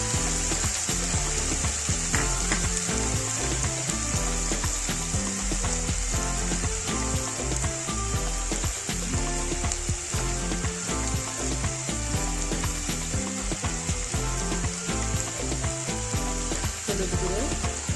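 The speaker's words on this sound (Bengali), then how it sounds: "এর মধ্যে আমি আদা রসুন বাটা দেবো, অল্প পরিমাণে একটু জল দেবো।" Ginger-garlic paste sizzling in a frying pan with a splash of water while making papaya bhujia, a steady hiss and crackle running under background music throughout.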